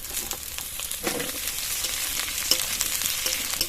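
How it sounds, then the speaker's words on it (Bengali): Chopped onion and capsicum frying in a pan with garlic and ginger for shrimp chili, giving a steady, close broadband sizzle with occasional stirring scrapes and small pops, no voices. "এবার এর মধ্যে কোচানো পেঁয়াজ আর ক্যাপসিকাম দিয়ে দেবো।"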